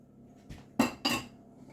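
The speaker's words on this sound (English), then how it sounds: "Put my little washing pile over by the sink," Dishes set down by a kitchen sink make a soft knock followed by two distinct ceramic clinks in quick succession, close by in an otherwise quiet room.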